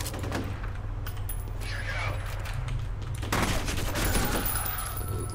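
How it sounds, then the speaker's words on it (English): Enemy shotgun fire in the F.E.A.R. video game, on the Water Treatment Plant level at Extreme difficulty, comes as loud bursts of gunfire and mechanical clatter over a steady low rumble, with a sharp flurry near the end. "Oh yeah, by the way, bad guys with shotguns."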